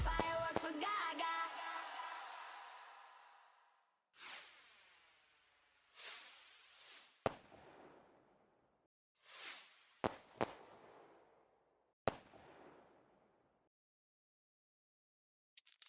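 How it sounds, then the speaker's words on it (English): A fireworks sound effect on a Wordle stream gives a series of separate bangs and crackling bursts, each fading out, with short silences between them and a final pop at the end. "Fireworks for Gaga."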